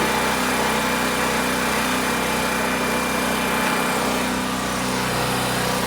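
A Harbor Freight generator drives a welder set to 125, its engine holding a steady, loud drone with a buzzing high-pitched edge that runs unbroken throughout, with no voices.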